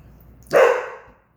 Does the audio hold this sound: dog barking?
yes